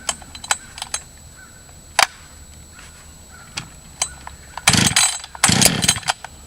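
A cold Husqvarna 555 chainsaw, choked and primed beside a dead oak, gives a few faint clicks and handling knocks, then two short loud bursts of engine sputter as it briefly fires near the end.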